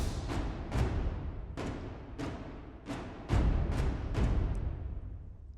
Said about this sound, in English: you can hear it's just big, aggressive, bombastic drums